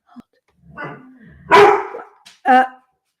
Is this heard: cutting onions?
no